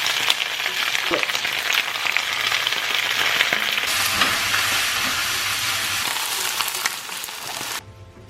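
Food sizzles steadily in a pan of heated canola and sesame oil, a loud, continuous crackling hiss with a shift in tone partway through, then cutting off abruptly near the end.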